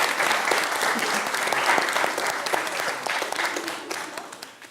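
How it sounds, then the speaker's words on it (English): Steady, loud applause from an audience at a debate fills the room, clapping continuously before gradually thinning out at the end. "And applause for negative team."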